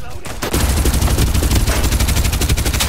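Rapid bursts of automatic gunfire rattle continuously, loud and close, from the video game Farlight 84, with a voice briefly audible between shots.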